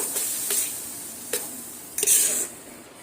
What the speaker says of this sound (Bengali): দুধ দিয়ে সুজির সঙ্গে আবারও নাড়তে চাড়তে থাকবো